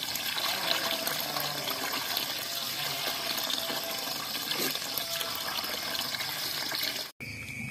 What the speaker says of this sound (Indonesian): proses selanjutnya adalah pembersihan daun sawi menggunakan air, air bersih dan dengan air mengalir.